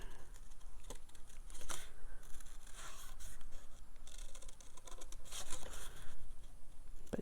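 Scissors cutting paper for a zinnia flower craft, a faint close series of irregular snips and crisp paper rustles heard alone in a quiet room.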